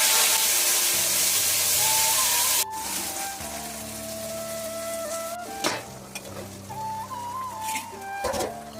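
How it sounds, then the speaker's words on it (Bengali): Okra fries in oil with a loud sizzle that eases after a few seconds, then continues under stirring scrapes and faint background tones. "আর এদিকে আমি ঢেঁড়স ভেজে নিচ্ছি"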